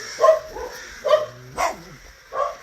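Small dogs barking close by in four separate sharp bursts spaced about half a second apart, with a whine mixed into one bark and no voices.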